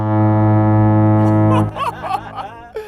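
A standard air horn fires from about two football fields away, one steady, loud, tonal blast lasting about a second and a half before it cuts off, followed by people talking and laughing nearby.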